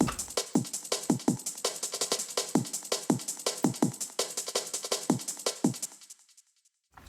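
A drum break in 7/4, lighter and secondary in a jungle-style track, ticks along in busy, quick hits with punchy low kicks, close and dry, fading out at the end.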